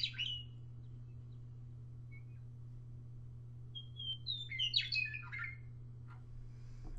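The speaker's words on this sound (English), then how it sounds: "They've added their state bird song audio files so kids can learn to identify" A recorded state bird song plays faintly, a short burst of chirps and whistled notes over a steady low hum, with a brief call at the start and a busier flurry near the end.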